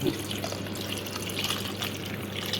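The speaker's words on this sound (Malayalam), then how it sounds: "പാൽ ആവശ്യത്തിന് ഒഴിക്കാം" A continuous soft pour of milk splashes into a pot of mango curry close by, steady and unbroken, with no voices.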